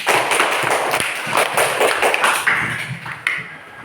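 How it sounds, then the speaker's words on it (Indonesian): Pupils in an elementary school classroom clap their hands after a group presentation, a dense, uneven patter of close claps and taps lasting throughout. "Tepuk tangan buat kelompok 3."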